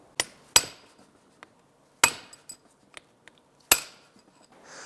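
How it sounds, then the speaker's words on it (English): A brass punch struck with a hammer around the perimeter of a CV axle boot on a 2001-2005 Honda Civic, several sharp metallic hits at irregular intervals with faint taps between, close and otherwise quiet. "We're going to use a brass punch and we're going to hit around the perimeter here"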